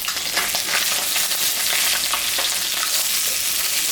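Dried red chillies, cumin and onion hit hot oil already used for frying fish, giving a loud, steady crackling sizzle with a bright hiss, heard close and without any talking.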